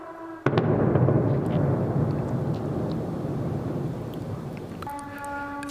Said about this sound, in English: Kyiv's skyline is punctuated with explosions from Russian missiles and drones